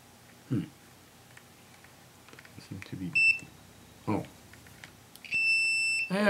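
A TackLife DM02A digital multimeter's continuity buzzer gives a short electronic beep, then a longer steady tone, amid faint clicks and handling noises close by.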